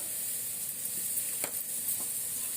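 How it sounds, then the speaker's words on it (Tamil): Diced potatoes sautéing in a pan for egg and vegetable fried rice, a soft steady sizzle and hiss with a few faint clinks of a utensil, heard alone without speech. "அது கொஞ்சம் நீர் விடும் இல்லைங்களா உருளைக்கிழங்குலாம், அதனால் நல்லா வதங்குது"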